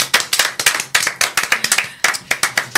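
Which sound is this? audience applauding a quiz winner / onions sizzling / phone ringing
audience applauding a quiz winner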